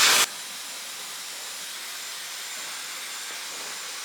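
A hair dryer with a nozzle attachment blows a steady, close, airy hiss while drying hair, starting with a brief louder burst and then holding a constant whoosh with no talking.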